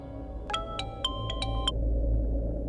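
A telephone ringtone chirps in a series of six quick electronic bursts about a quarter second apart, loud over a steady low background hum, then stops with no answer.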